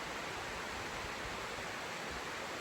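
Snoqualmie Creek waterfall on a hiking trail, a dense, constant roar of rushing water with no pauses, filling the scene evenly.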